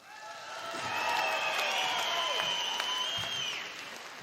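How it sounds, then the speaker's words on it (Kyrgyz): An audience at a live comedy show claps for about four seconds, a steady dense wash of applause swelling and then easing off, heard at moderate distance with no speech on top. "мага деле бир жакшы кол чаап койсоңуздар"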